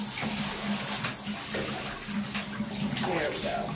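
Tap water runs steadily into a bathtub for a clean rinse at bath time, a continuous close splashing flow with a low hum underneath and faint movement throughout.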